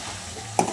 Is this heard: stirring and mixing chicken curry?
yes